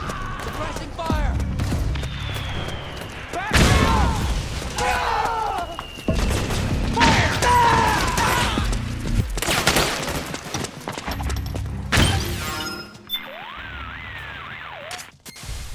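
Suppressing gunfire in the Metal Gear Solid 4 video game: heavy bursts of automatic fire and booming impacts, loud and near, alternating with shouted voices and game dialogue over the shooting.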